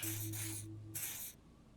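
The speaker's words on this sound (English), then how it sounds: "It dousses you with the odd smelling spray, the double helping as you present your other armpit" Two long hissing bursts of spray deodorant are applied to the armpits in the video game Disco Elysium, each lasting under a second and sounding close and fairly loud over a faint low hum.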